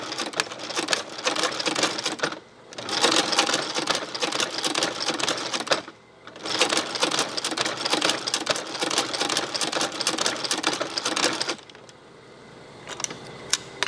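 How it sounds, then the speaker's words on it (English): A roughly 100-year-old Landis 16 harness stitching machine sews a heavy leather holster, its loud rapid mechanical clatter running in three long bursts separated by brief pauses, then giving way to quieter handling noises. "So we're going to use my old Landis 16. This is a harness making machine, about 100 years old."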